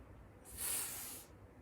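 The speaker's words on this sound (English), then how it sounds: "It's a sunscreen spray." A single soft hiss of Garnier sunscreen aerosol spray lasting about half a second, close and fairly quiet, with no talking.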